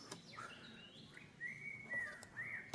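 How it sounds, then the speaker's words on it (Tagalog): Birds in a tropical forest park call in a quiet setting, giving several short rising chirps and whistled notes at moderate distance that repeat at irregular intervals. "dami pa mga ibon"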